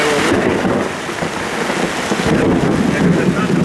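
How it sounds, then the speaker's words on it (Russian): Heavy rain pours down during a thunderstorm, a loud, steady roar of falling water with low rumbling thunder beneath it and no break across the whole stretch. "здесь конкретно шандарахает вода"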